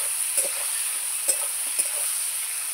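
Potatoes and onions fry in a pan with an even, fairly quiet hiss, broken by a few light clinks and scrapes of stirring, no one speaking.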